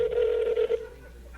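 Telephone dialing a call, a steady electronic tone held for under a second that then fades into a quieter line hum.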